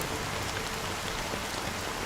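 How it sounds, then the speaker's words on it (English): Steady rain pours down in Honkai Star Rail, a dense, even hiss of falling water that holds unbroken and fairly loud with no voices over it. "it's still raining."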